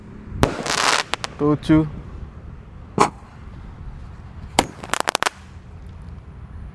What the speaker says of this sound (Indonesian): Tadi kita menyalakan roket terbesar, menyalakan Romain Candle.